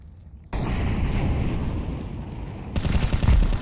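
Grenade and incendiary blasts in Counter-Strike 2 on the Mirage map, a sudden loud burst followed by a sustained roaring rumble, then a second sharper crackling eruption near the end.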